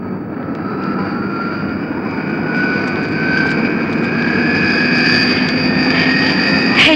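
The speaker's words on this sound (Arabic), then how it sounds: "هي الطيارة دي" An airplane engine drones steadily with a broad, rising roar and a sustained whine, growing slightly louder over several seconds with no talk.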